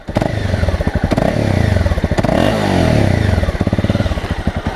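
A Honda CB300R motorcycle engine starts and runs close by, with loud popping idle pulses and a couple of short revs, no voices over it.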